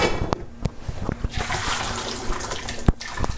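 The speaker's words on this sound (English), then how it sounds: "we're just going to strain the water out." Water from freshly cooked broccoli pouring and splashing through a strainer, a steady rushing stream broken by a few sharp clinks and knocks, close by.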